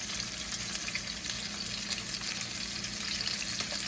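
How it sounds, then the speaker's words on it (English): Steady, loud sizzling of ahi tuna searing in a hot pan, a continuous crackling hiss with no voices. "You want that sound right there, that searing sound."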